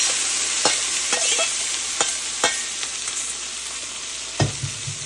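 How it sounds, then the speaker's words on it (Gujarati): Crushed corn sautés with curry leaves and asafoetida in a pan, a bright continuous sizzle with several sharp stirring scrapes and taps of a spoon, close and without speech. "થોડું ગેસ ધીમો કરી એને બરાબર સાતળવાનું."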